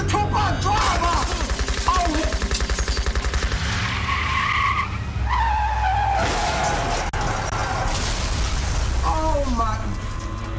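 In the video game Def Jam: Fight For NY, a drive-by car's tires screech and skid while rapid bursts of gunfire rattle, all close and loud, with agitated voices mixed in.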